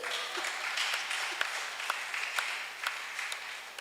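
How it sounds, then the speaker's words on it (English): A church congregation at a Sunday service claps for a woman, a soft, fairly distant patter of many hands with a few sharper claps standing out, steady for a few seconds. "Can you clap your hand for her?"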